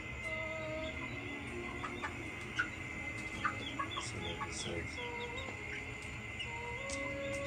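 Chickens clucking early in the morning at a rural home, scattered soft clucks and short calls over a steady background hum, fairly close, with no talking.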